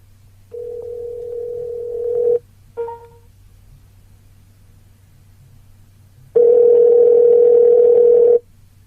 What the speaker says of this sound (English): Let's call a 24-hour diner and see what time they close.